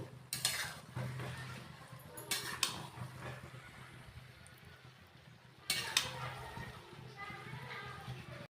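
Paneer and rice for pulao are stirred together in a pot, with three brief, loud scraping and rustling bursts of the spoon against the pot over a quiet background.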